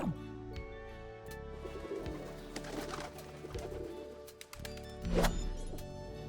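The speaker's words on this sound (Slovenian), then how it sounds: "Golob." A pigeon coos in a low, rhythmic series of throaty calls over several seconds, with an occasional soft knock, heard fairly close and alone without talk.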